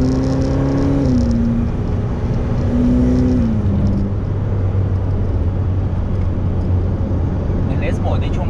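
A Ferrari F8 Tributo engine in sport mode revs and holds a steady, loud mid-range drone, with rising and falling pitch in the first few seconds, heard from inside the car.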